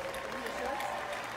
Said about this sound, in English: Stop clapping! I hate this!